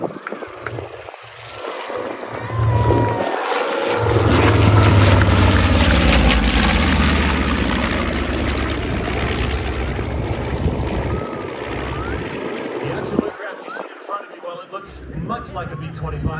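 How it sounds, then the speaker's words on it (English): A B-25 bomber, or the similar PB-1J variant, passes at an airshow honoring the Doolittle Raid, its engine roar swelling and fading across an open field under wind noise while an announcer speaks. "the B-25 from your left."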